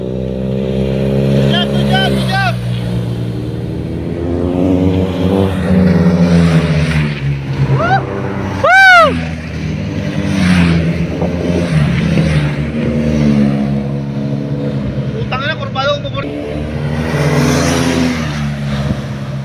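Motorcycles race past at speed during an Ironman event, engine whine rising and falling continuously and loud, with an excited crowd and voices talking over the roar.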